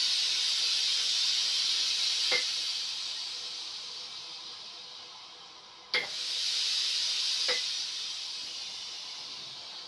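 Steam hisses out through the holes of a limescale-cleaned steam generator iron held over a sink, a loud continuous close hiss that fades, cuts off with a click and resumes with brief pops.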